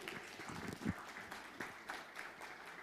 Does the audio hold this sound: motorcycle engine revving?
no